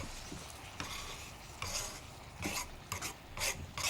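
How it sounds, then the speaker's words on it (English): Onion and minced meat sizzle steadily in a pan for cottage pie, punctuated by scraping and stirring strokes of a utensil, close and fairly quiet, no voices. "It's amazing how noisy frying can be, isn't it?"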